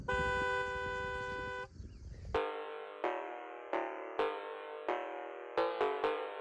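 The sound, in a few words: car horn honking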